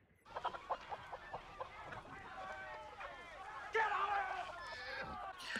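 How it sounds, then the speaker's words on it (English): Chickens cluck and squawk repeatedly over a busy, clattering background, growing louder and more agitated toward the end. "there's sheep and chickens just running around."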